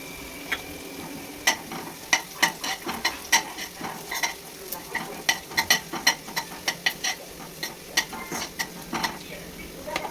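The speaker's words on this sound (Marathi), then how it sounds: "चांगला कांदा परतून घेतल्यानंतर त्यामध्ये लगेच आपल्याला थोडीशी मिरची ही पण तळून घ्यायची आहे।" Green chillies fry with onions in a pan under a soft sizzle, broken by frequent sharp clicks and scrapes of a spoon stirring against the metal.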